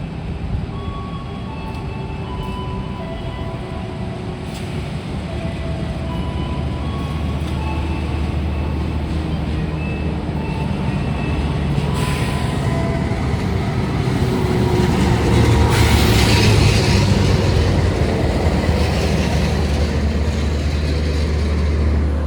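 A passenger train of new-generation stainless steel economy cars runs along the rails, heard as a steady low rumble with faint tonal hums that slowly grows louder and rougher over the stretch.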